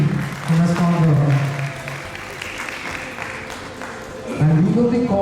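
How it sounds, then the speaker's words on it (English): An audience at a Diwali festival mela applauds the festival team, clapping rising and fading under a sustained tone and voices, with a louder burst near the end. "can we get a round of applause for the whole team?"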